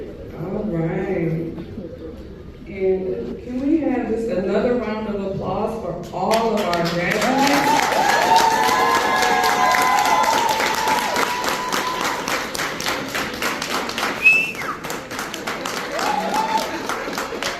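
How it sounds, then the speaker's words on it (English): A graduation ceremony audience in Detroit breaks into sustained applause after someone speaks into the microphone, and the dense, loud clapping rolls on with cheers mixed in. "can we have just another round of applause"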